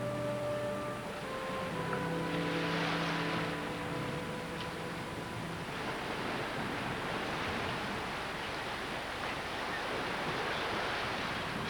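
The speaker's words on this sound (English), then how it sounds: "the powerful crashing of the waves where ocean meets land head-on" Ocean waves crash steadily on a rocky shore of Admiralty Island, a continuous broad roar of surf, while a sustained musical tone fades out in the first half.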